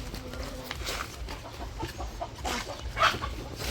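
A rooster on a village farm clucks in a few short, moderately near bursts over faint outdoor background noise, with no talk during the sounds.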